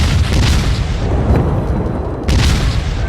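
Heavy naval gun fire in World of Warships, deep booming blasts with a rumbling tail, one strong report early and another loud boom near the end over continuous low sea and engine noise.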